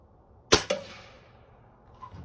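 A Xisico XS46U air rifle fires a single pellet, a sharp close crack followed a split second later by a fainter thwack, then near silence.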